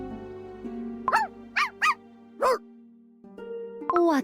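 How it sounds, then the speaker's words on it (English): A dog barks several times in short separate bursts over a steady tonal background hum, loud and close, with no talk. "What's with all this barking?"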